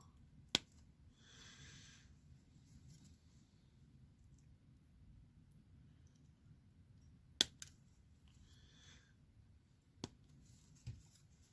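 Hobby clippers snip plastic Warhammer 40K model leg parts off the sprue in a few sharp, isolated clicks, close and quiet, separated by long pauses.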